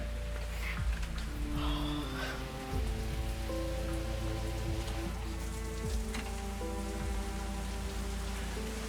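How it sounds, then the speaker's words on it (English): Rain falls steadily throughout, a continuous patter on surfaces with a low background hum, no speech heard. "It's raining too."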